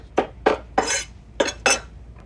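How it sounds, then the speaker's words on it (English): A knife chops flat leaf parsley on a board in five distinct, fairly loud strikes at an uneven rhythm, close by with no talking. "So roughly chop that."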